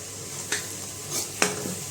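Crushed chili, ginger and garlic roast in a pan with a soft, steady sizzle, broken by two sharp clinks of a spoon against the pan.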